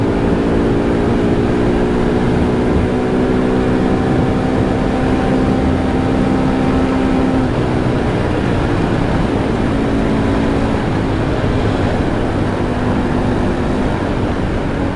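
A 250cc supermoto motorcycle engine runs on full choke with a rough, unsteady idle, a loud, close, continuous buzzing drone with wavering pitch and no voices over it.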